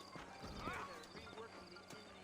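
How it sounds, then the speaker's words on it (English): Horses in the video game Red Dead Redemption, giving a brief whinny and a few hoof clops close by, mixed with a voice talking. "You ain't gonna find sturdier horses than these in all of New Ulster"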